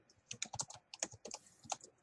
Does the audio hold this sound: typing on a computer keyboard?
yes